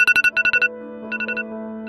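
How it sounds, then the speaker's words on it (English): iPhone default alarm tone Radar: bright, rapid repeating beeps in bursts, then a quieter, lower echo of the pattern, close and clean. "The iPhone's default alarm sound is called radar,"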